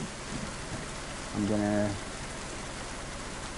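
Steady rain falls outdoors around a person clearing things out of a car, a soft even patter throughout with a brief spoken phrase and a short tonal hum partway through.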